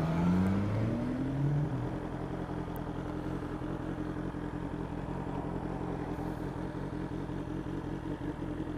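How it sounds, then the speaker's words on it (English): Sports touring motorcycle with panniers lapping the Billown road course in the wet, its engine a steady droning rumble with a brief rising whine early on, heard continuously at moderate level. "Southern 100 Billown course on a sports touring bike with big fat panniers"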